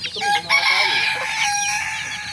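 Hens cluck and a rooster crows nearby, overlapping calls from a small flock, loud and close.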